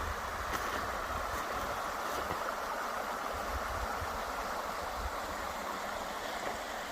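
Steady broadband rush of Minister Creek flowing past a busy campsite, continuous and fairly close, with no voices over it.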